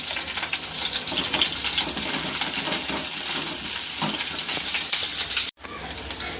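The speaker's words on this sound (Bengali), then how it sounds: "পেঁয়াজটা ভাজা হয়ে গেছে, এখন দিয়ে দেবো হচ্ছে পাস্তাগুলো" Onions frying in a pan with curry leaves for a pasta dish, a continuous close sizzle and crackle that briefly cuts out near the end, with no talking.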